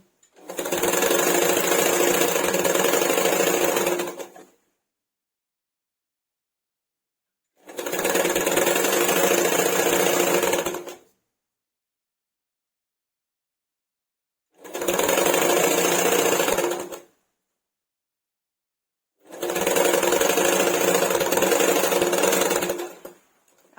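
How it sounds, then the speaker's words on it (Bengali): A sewing machine stitches the side of a pillow cover in four steady, loud runs of a few seconds each, separated by clear pauses. "ভাবে সাইডটাকে সেলাই করে নিচ্ছি"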